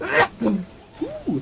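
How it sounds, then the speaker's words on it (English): A single close sneeze bursts out sharply, followed by a short exclaimed voice and a soft vocal murmur. "I'm about to sneeze."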